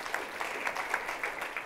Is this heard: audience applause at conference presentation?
yes